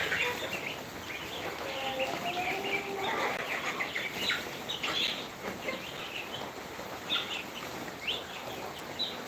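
Golden farm chickens cluck and call outdoors on a rainy morning, with scattered soft chirps and clucks over a steady hiss of rain, moderately close.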